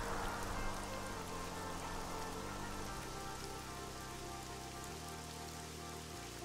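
Rain falls steadily in the fantasy video game Neverwinter Nights, a dense, even hiss of drops on surfaces heard alone, with a low ambient drone shifting underneath.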